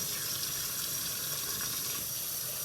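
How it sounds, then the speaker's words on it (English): Tap water runs steadily into a kitchen sink as small vegetables are rinsed, a constant close hiss and splash with no talk. "Gonna rinse them off real good."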